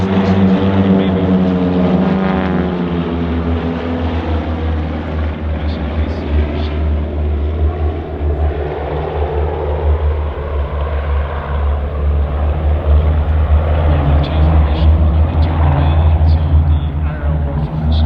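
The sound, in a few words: propeller aircraft flying aerobatics at RIAT airshow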